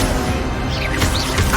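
A fire spell going off in Hogwarts Legacy, a short burst of crackling, whooshing impact noise layered over a busy game soundscape.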